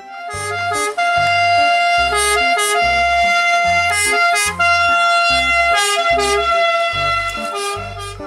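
A loud, steady fire truck siren wails in a repeating two-tone pattern, close by, with no voices.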